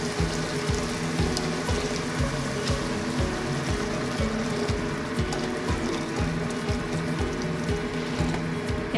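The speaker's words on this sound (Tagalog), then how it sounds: "Lagyan na po natin siya ng 3 basong tubig." Three glasses of water pour into a cooking pot while preparing an Arabic rubyan dish, a steady close splashing rush that runs without pause, with no voices.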